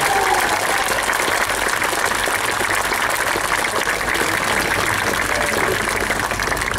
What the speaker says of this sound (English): would you give a round of applause to world record holders?